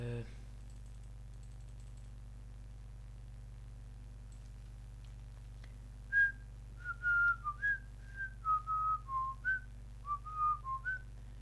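A person playing Minecraft whistles a series of short, clear notes in an irregular tune over a steady low hum, after a quiet stretch.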